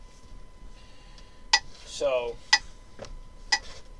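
Metronome at 60 beats a minute giving sharp, evenly spaced clicks about once a second, with a brief spoken word between ticks.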